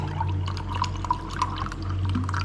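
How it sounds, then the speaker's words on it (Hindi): Water poured into thick lassi in a home kitchen, a soft continuous trickle and drip with small splashes, steady and close over a low background hum. "इसमें थोड़ा पानी डालेंगे।"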